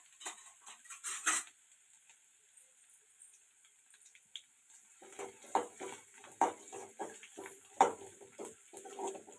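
Grated ginger and garlic frying in hot oil for a potato fry, a steady close sizzle running throughout, joined in the second half by quick repeated scrapes and taps of a spoon stirring in the pan.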